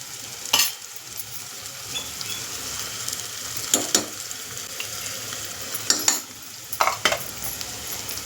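Masala for a sprouted moth bean pulao frying in a pan, a steady sizzle broken by several sharp spatula scrapes and clanks against the metal as it is stirred, close and alone.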